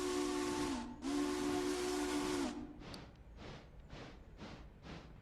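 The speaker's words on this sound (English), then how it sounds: "I should whistle." A steam locomotive whistle in the Railroader video game sounds one long, loud, breathy blast with a brief break, then trails into rhythmic chuffing hiss as the engine starts moving, with no voices.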